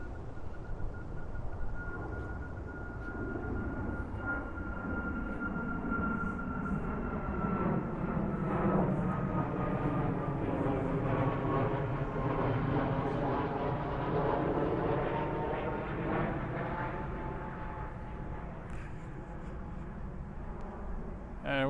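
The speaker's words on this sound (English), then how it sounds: "a good number of planes here because we're close to the airport" Airplane flying over near an airport beside the Humber Arboretum park, a loud broad jet roar that swells and sweeps in pitch over twenty seconds as it passes overhead, then slowly fades.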